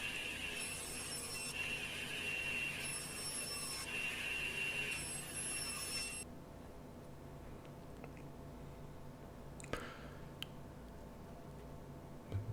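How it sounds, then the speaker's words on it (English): Poplar hardwood being cut to trim a cabinet carcass: a whining saw with a steady tonal hum runs for about six seconds, then cuts off, leaving faint workshop noise and a single sharp knock. "now I'm cutting down the hardwood, the poplar"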